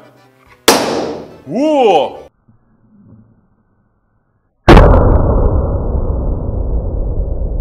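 A balloon bursting during a home balloon experiment: one sharp pop early on, then an excited voice whooping, a quiet gap, and a second loud, close burst followed by sustained broadband noise.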